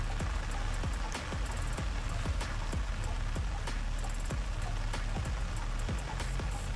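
Rain falls steadily on a fishing pond, a dense even hiss with regular sharper patters and drips running through the whole stretch, and no voices.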